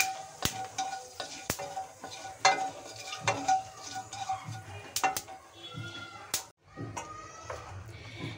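Sesame seeds dropped into hot oil and stirred in a pan for a vegetarian drumstick curry, a quiet crackling sizzle broken by sharp utensil clicks and scrapes.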